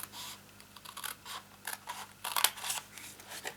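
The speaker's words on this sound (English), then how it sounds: "Now I'm going to cut up here at a slight angle" Scissors cutting card at a slight angle while making a greeting card box, a run of close, quiet snips and scraping slices in an uneven rhythm, with no talking.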